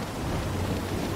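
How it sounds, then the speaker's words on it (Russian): A storm at sea in the video game Uncharted 3, with huge waves, gives a dense, steady roar of wind and crashing water and deep low rumbling, loud and continuous without talk. "Штормит, потому что штормит море. Вообще волны огромные."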